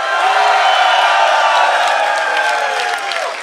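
A packed crowd at the final of a freestyle rap battle in Berlin roars and cheers for an MC, a dense, loud, steady wall of voices and whoops with no pause.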